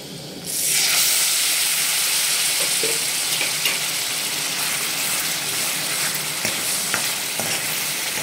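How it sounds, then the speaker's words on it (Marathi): Ground masala paste drops into hot oil and bursts into a loud, even sizzle that holds for the rest of the clip, with occasional soft stirring ticks and no talking. "आणि चांगलं तेल सुटेपर्यंत 2 ते 3 मिनिट आपण याला चांगलं परतून घेणार आहे."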